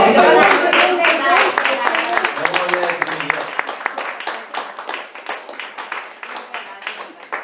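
Audience clapping for a speaker at a talk on natural treatment of depression: a loud burst of clapping fades into scattered, uneven claps that slowly thin out, with a voice speaking briefly at the start.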